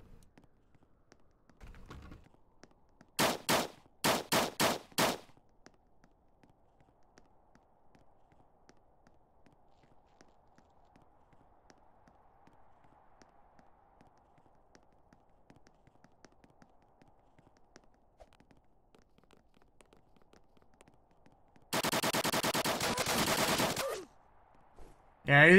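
Bursts of automatic gunfire in the survival game Apocalypse Rising: Reimagined: a short rattling volley early on, then a quiet stretch with faint footsteps before a longer sustained burst near the end.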